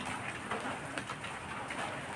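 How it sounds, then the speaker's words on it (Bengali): Steady rain patters softly in the background, a faint continuous hiss with occasional louder drops. "কি করবো, বৃষ্টি নেমেছে।"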